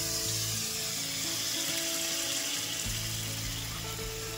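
A Bengali fish curry masala of ground spice paste sizzles steadily in hot oil, a dense continuous frying hiss with faint stirring, close and fairly loud with no talk.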